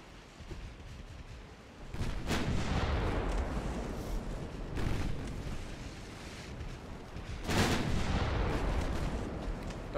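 Heavy naval gunfire from 6-inch light cruiser guns in Ultimate Admiral Dreadnoughts, with loud booming salvos around two, five and seven seconds over a continuous rumbling battle din, no talking.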